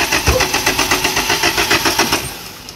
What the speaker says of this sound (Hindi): अभी देखो गाड़ी स्टार्ट नहीं हो रहा है,